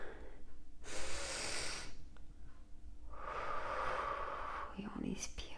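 A person exhales slowly and audibly during a guided breathing exercise, with two long airy breaths of moderate loudness alone in a quiet room.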